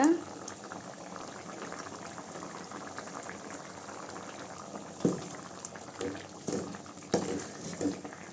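A pot of tamarind curry with brinjal and okra simmers and bubbles steadily, with occasional louder pops and clinks near the end.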